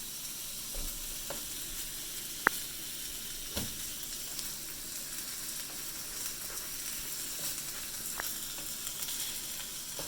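Shrimp frying in a pan for Japanese fried rice, giving a steady bright sizzle throughout with occasional soft scrapes and taps of stirring, close and continuous without talk.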